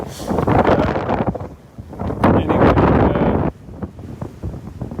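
Strong wind buffets the microphone in a park in Hatch End, outer London, in heavy, roaring gusts that rise and fall, briefly easing before blasting again.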